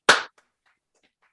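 A single sharp hand clap, close and crisp, followed by silence.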